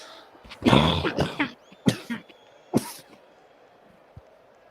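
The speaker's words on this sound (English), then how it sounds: "If you're wondering why I'm coughing quite a lot, that's the reason why." A football commentator with a cold coughs several times at a Plymouth Argyle v Watford match, harsh close bursts in quick succession, then near silence.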